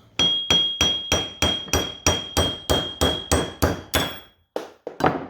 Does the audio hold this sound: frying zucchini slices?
no